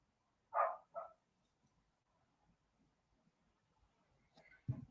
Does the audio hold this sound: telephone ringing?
no